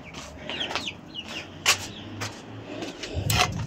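Chickens and a rooster cluck in a village yard, short soft clucks and calls at close range over a faint background, with a few sharper knocks and a low murmur near the end.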